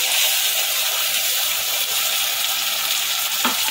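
Jackfruit frying in a pan as a paste of mustard, poppy seed and green chilli goes in, giving a steady, loud, close hiss of sizzling oil throughout with a brief disturbance near the end.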